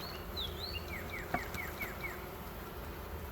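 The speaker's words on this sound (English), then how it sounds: "Totally packed with bees, as you can tell." Honeybees buzzing in a dense swarm around a newly installed hive outdoors, a steady droning hum with a few louder individual bees passing close by.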